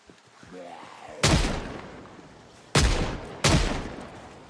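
Three loud gunshots in Project Zomboid, spaced irregularly, each a sharp crack with a decaying echo tail, after a quieter lead-in of rustling and a short tonal sound.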